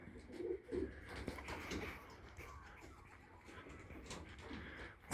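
Pigeons at the loft give a couple of soft, low coos near the start, followed by quieter bird sounds and faint outdoor background noise.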